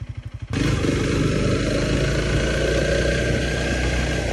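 A Honda CRF300 dirt bike runs steadily and loud at close range, its engine note rising into a continuous throaty drone after a few slow pulsing thumps at the start.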